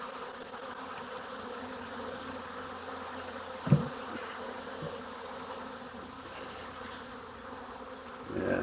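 Honey bees droning steadily around an open hive box, a soft continuous buzz at low level with one brief knock partway through and a slight rise at the end.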